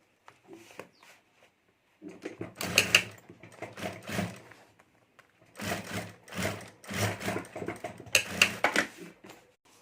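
A home sewing machine stitches the side seam of a clutch bag in short bursts of fast, rattling needle chatter separated by brief pauses, close and moderately loud.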